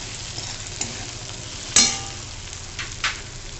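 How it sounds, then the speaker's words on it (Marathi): Grated ginger sautés with onion and tomato in a pan, a soft steady sizzle broken by a sharp metallic clink of the spoon and a few lighter scrapes of stirring. "एक किसून घेतलेलं आलं पण टाकून घेऊ बरोबर कांद्या टमॅटो बरोबर ते परतलं जातं"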